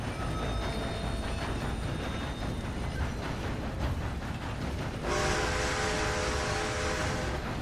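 A train rolls along in Red Dead Redemption with a steady, rumbling clatter of wheels, and a sustained tonal whistle-like tone rises over the noise partway through; no voices.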